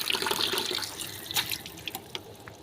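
Water poured over a child's face during a bath, a close, splashing rush that fades into scattered drips and small splashes, with no voices.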